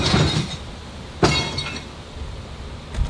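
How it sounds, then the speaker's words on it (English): Broken glass rattling and crunching inside a returned box from a customer return pallet, with a sharp crash near the start, another at about a second in, then lighter clinks. "Glass broken? Yes, glass broken."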